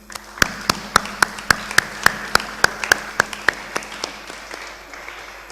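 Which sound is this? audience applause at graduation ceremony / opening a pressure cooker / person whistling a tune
audience applause at graduation ceremony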